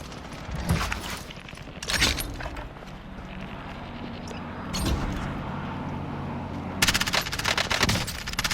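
Call of Duty: Warzone Plunder match gunfire: several loud bursts of automatic fire come in clusters with gaps between them, the last burst long and rapid, all over a constant din of game sound.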